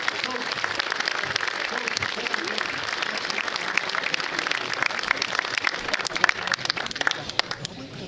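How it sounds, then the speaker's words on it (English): Crowd at a baseball hall of fame induction ceremony gives a coach a big round of applause, dense sustained clapping that grows sharper and more scattered toward the end, with voices talking underneath. "Let's give a coach a big round of applause."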